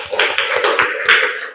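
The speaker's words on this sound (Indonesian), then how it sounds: "tepuk tangan dulu buat Hafiz ya." Clapping for a student named Hafiz in a religious lesson, a rapid, uneven patter of several hands clapping close by, loud and continuous, with no talk.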